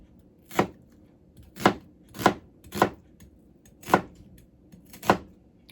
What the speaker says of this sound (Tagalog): you can chop your vegetables the way you want it